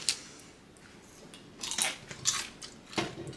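Close, faint crunching bites and chewing of roasted potatoes in short bursts, alone against a quiet background.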